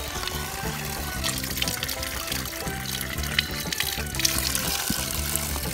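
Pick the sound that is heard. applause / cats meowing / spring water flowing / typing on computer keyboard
spring water flowing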